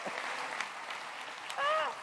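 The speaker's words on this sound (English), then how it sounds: "And a round of applause" Applause from an audience at a public event with local officials, a steady patter of clapping at moderate level, with a voice briefly cheering near the end.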